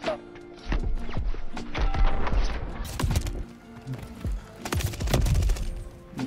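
Gunfire from a sniper video game: several sharp bangs and thuds scattered irregularly through the stretch, loud and close, over a busy background of game noise.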